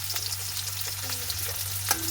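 Chopped onion and garlic fry in hot oil for a lunch dish, a steady close sizzle with soft stirring scrapes and a low hum underneath, no talk.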